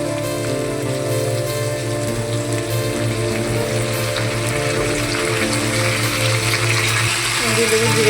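Potatoes fry in oil with turmeric, spices and ginger paste in a home kitchen pan, giving a steady, close crackling sizzle under a low continuous hum that runs throughout without talk.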